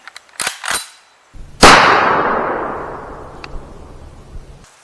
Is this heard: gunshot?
yes